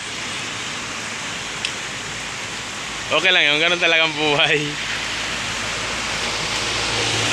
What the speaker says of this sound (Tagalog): Ayan, lakas na ng ulan.